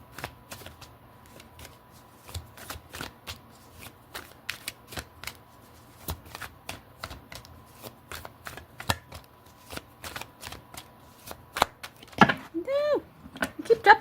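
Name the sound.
shuffling tarot cards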